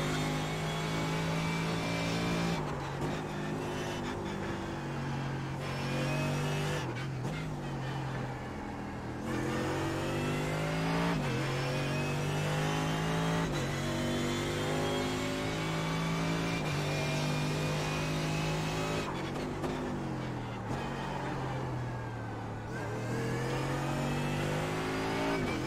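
Mercedes GT3 race car engine in the iRacing sim at the Nürburgring, revving hard through gear changes with repeated rises and sharp drops in pitch over a steady loud drone.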